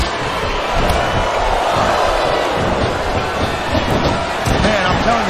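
A wrestling arena crowd in WWE SmackDown vs. Raw 2007 roars in a loud, continuous wash of cheering, with thuds from the ring, while a commentator talks over it.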